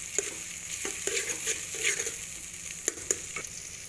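Five green chilies frying in hot oil in a pan for a cucumber salan, a steady close sizzling hiss broken by several sharp spatula taps and stirs.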